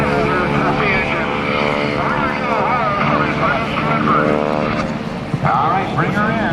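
A stock-fuelled aircraft at the 2010 Blue Angels Homecoming airshow drones loudly and steadily throughout, its propeller engine tone wavering as it performs, with a commentator talking over it on a public address system.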